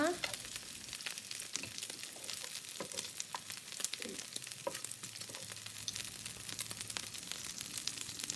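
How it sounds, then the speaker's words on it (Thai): Grilled beef for a Thai tiger cry salad is scooped out of a hot sizzling pan onto a plate, with a quiet, steady frying hiss broken by scattered scraping and clinking taps. "ตอนนี้ก็เสร็จแล้วนะคะ ตักออกใส่จานเลยนะคะ"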